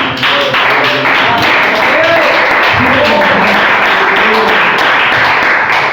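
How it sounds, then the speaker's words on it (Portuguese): A church congregation claps in praise during a worship service, loose scattered applause mixed with voices and some tonal sound underneath, fairly loud. "Se você quiser aplaudir ao Senhor."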